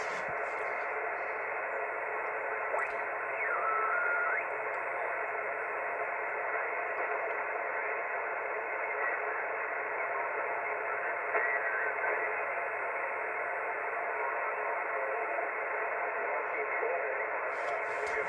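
Steady ham radio receiver hiss on the 40-meter band from a Yaesu FT-450D, with faint, overlapping voices and tones drifting through the static, constant and moderately quiet throughout.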